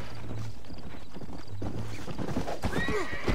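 A horse in the Red Dead Redemption video game neighs, a shrill whinny rising near the end after clip-clopping hooves and some rumbling, with no talk over it.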